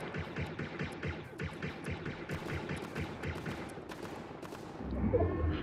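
Rapid gunfire crackles in Fortnite as players shoot at rocks, a dense stream of sharp repeated bursts at moderate loudness, with a heavier thump near the end.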